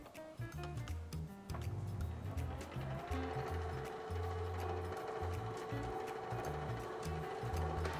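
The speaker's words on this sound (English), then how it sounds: "The recipe then calls for us to mix on low until a shaggy dough forms for about 1 minute." A stand mixer on low speed mixes shaggy sourdough pretzel dough with a rhythmic, repeating mechanical thumping and ticking that runs throughout at moderate level, with no voices.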